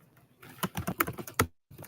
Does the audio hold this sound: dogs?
no